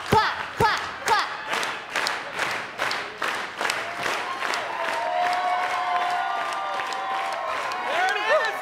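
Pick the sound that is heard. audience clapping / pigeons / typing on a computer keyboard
audience clapping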